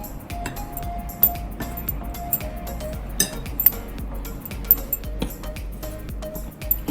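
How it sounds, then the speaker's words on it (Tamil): A spoon stirs banana flower fry batter with ginger garlic paste in a bowl, giving irregular light clinks and scrapes of metal on the bowl over a soft background hum, with no talking. "இப்போ எல்லாத்தையும் நம்ம நல்லா மிக்ஸ் பண்ணிக்கிறோம்"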